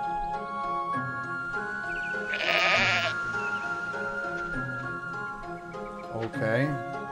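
Sheep bleat in the video game Black and White, two distinct bleats a few seconds apart standing out over a droning musical background.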